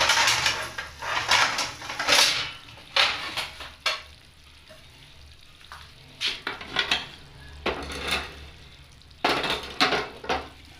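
Cauliflower and beef curry is scooped from a pot into a serving dish with a ladle, making repeated scraping and clanking strokes of metal on cookware, close and uneven, without speech.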